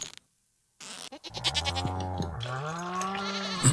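A cow in the farming game Stardew Valley gives a drawn-out, wavering low call after a short pause, close and clear with no talk over it.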